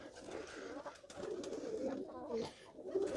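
Pigeons cooing in a small grey loft, soft low repeated coos overlapping one another at moderate distance with a faint background hum, no talk.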